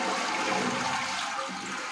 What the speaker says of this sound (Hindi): मैं अभी फ्लश करूँगा